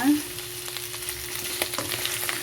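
Chicken and mushrooms sizzle steadily in a hot pan while being stirred, a constant close frying hiss with small scraping bumps and no voices.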